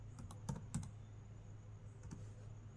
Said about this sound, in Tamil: ஃப்ளிப்கார்ட்னு டைப் பண்ணுறேன்.